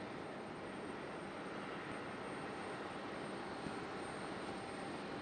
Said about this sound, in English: Beautiful 767 there for FedEx.